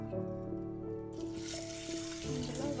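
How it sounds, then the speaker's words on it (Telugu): Tap water runs and splashes into a bowl holding a cup of chana dal to rinse it, a steady close pouring and gurgling that builds after the first second. "ఇందులో వాటర్ పోసుకొని"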